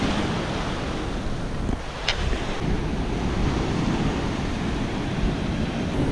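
Ocean surf at Pitinga beach in Arraial d'Ajuda, a steady roaring wash of waves with gusty wind buffeting the microphone, no voices.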